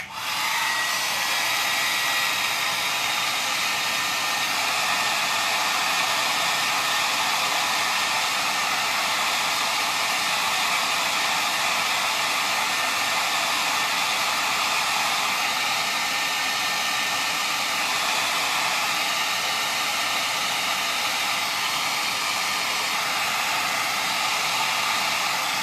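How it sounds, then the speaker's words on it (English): A hair dryer blows steadily and loudly throughout, a constant broadband whoosh with no talking. "I'll just use my dryer"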